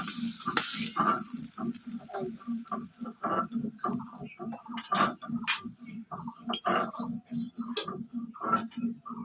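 Catla fish fries in hot oil, sizzling, while a utensil taps and scrapes in a steady, repeated rhythm.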